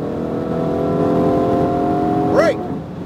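A Ferrari 488 GTB accelerates under full throttle, its loud, steady engine note rising and then cut short by a quick upshift chirp near the end.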